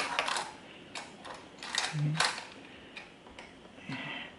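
Clicks and ratcheting snaps come from an AMD Wraith Prism stock cooler's clamp latch being pushed over its hook on a Ryzen CPU mount, several close, sharp mechanical taps in an irregular sequence.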